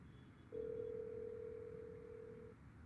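During a call-in radio show, a single steady telephone tone sounds for about two seconds over quiet background hiss, fairly faint, with no talking.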